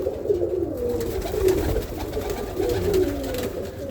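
Several roller pigeons coo softly and repeatedly nearby, their low rolling calls overlapping against a faint background rustle.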